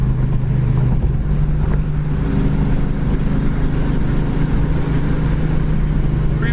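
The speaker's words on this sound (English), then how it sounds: "Car runs down the road great." A 1967 Ford Mustang cruises down the road, its engine a steady low droning rumble mixed with road and wind noise, heard from inside the car at a constant loudness with no talking.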